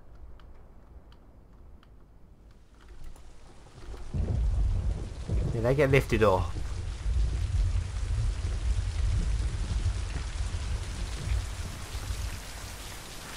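A low rumble of thunder builds into a steady downpour of heavy rain in the video game Mind: Path of Thalamus, with a brief spoken remark over it.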